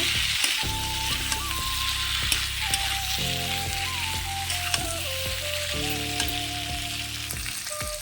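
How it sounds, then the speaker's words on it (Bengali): Potato and capsicum with cardamom, coriander and cumin powder sautéing in a pan, a dense steady sizzle with repeated scraping stirs and faint tonal hums beneath, close and continuous. "এলাচ, ধনে, জিরা গুঁড়ো ওর মধ্যে দিয়ে দেবো। দিয়ে ভালো করে কষে নেব।"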